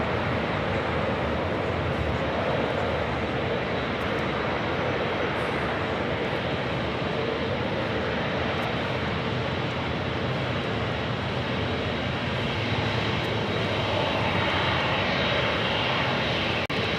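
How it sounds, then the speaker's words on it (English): Aloha Air Cargo Boeing 767 jet taking off at LAX, a powerful sustained engine roar filling the whole span at a constant loud level, broadband and rumbling. "We also have an Aloha Air Cargo 767 going to be taking off."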